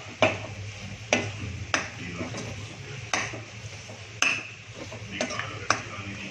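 A spoon stirs spinach chicken fry with masala in a pan, giving sharp metallic scrapes and clinks at an irregular pace over a low, steady sizzle.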